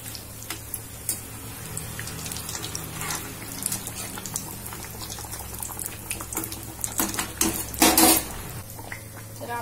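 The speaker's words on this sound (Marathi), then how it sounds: "आता आपण याला परतून घेऊया." Vadas sautéed in a pan for vada pav, with clinks and scrapes of a utensil against metal over a steady low sizzle, and a louder clatter near the end.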